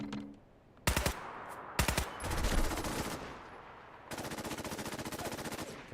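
Gunfire from a weapon in Fallout 4: short, sharp bursts of shots, then a sustained rapid automatic stream, close and loud, with no talking.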